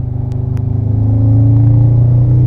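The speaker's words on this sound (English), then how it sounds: "Turbo spooling" An Audi's engine revs hard in fourth gear near 3000 rpm at full power, turbo spooling as a loud, close drone that climbs steadily in pitch for a couple of seconds.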